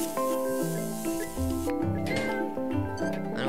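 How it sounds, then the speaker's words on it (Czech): A cat meows in the point-and-click video game Machinarium, a short mew that sits over steady, tonal background game music. "Dobrá kočka."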